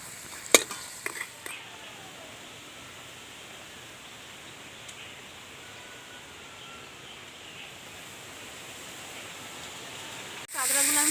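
Crab pieces fry in hot oil with salt, a steady broadband sizzle running throughout with a few sharp clatters near the start and a louder burst at the very end.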